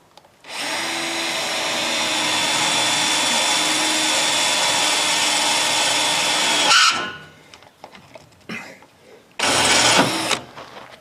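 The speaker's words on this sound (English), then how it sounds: "So by just pre-drilling it like this, I'm just drilling through this here and then letting the screw do the work into this." A power drill pre-drills through a panel while under-bus storage is being built for a school-bus conversion. It makes a loud, close, sustained high whir for about six seconds, goes quiet with small clatters, then gives a second short burst.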